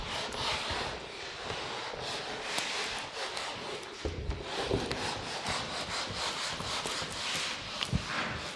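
Steady dry rubbing of an eraser wiping chalk or marker writing off a classroom board, a continuous scrubbing texture with repeated back-and-forth strokes and no talking.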